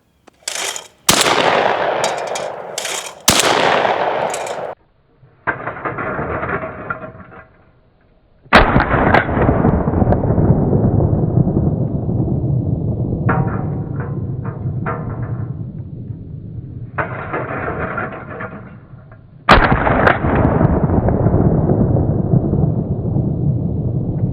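A JC Higgins Model 60 gas-operated shotgun fires from a mounted shoulder position, giving loud sharp blasts with long rolling echoes outdoors. Two pairs of shots are heard, and a metallic action clatters between them.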